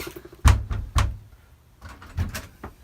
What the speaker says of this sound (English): The doors are broke!